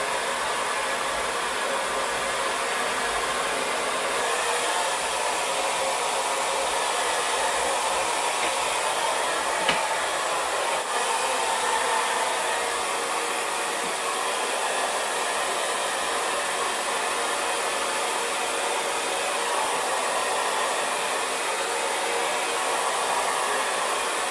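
A Chi Dura Handshot handle-less hair dryer runs steadily at close range for the whole stretch, a loud, even broadband whoosh with no breaks and no talking over it.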